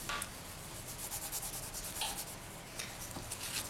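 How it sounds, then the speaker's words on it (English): Faint, steady scratchy rubbing of sandpaper on a wooden skewer, continuous with slight strokes, quiet and close. "rotate as you sand, and go through each of your grits like that for each one"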